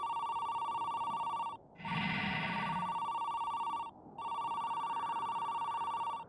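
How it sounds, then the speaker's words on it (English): A video game telephone rings steadily in three long electronic bursts, loud and clear with no talk. "Okay, I need to answer the phone."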